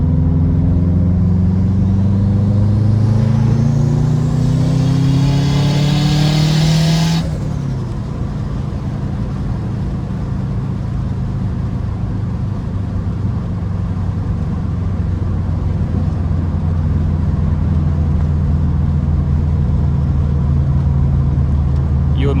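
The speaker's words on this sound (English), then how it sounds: "You might notice that the wastegate opens and it's not like that broken sound." A Subaru WRX hatch with an EJ25 engine and a stock-location 20g turbo pulls hard through third gear, its engine note climbing loudly for several seconds before the throttle lifts and the wastegate opens, then steady driving drone continues.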